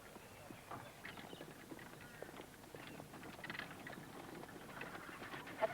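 Faint, irregular clip-clop of horse hooves, distant and soft, with scattered light taps and rustling around it.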